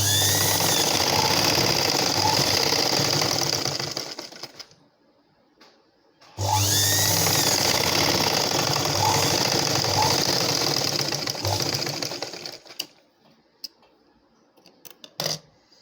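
An electric sewing machine stitches blouse darts in loud, continuous bursts, running for several seconds, pausing briefly, then running again before stopping with a few faint clicks.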